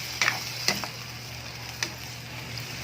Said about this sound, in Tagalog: Haluin ko lang guys.